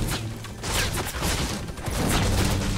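Bursts of automatic gunfire and booming impacts from a Fortnite match, dense and loud through most of the stretch with a brief lull near the middle.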